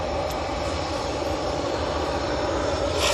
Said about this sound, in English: Ryanair next in from Cork